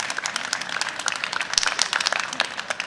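On an agricultural innovation conference stage, a modest audience gives scattered, uneven applause, with individual claps popping out of a light, moderately loud patter.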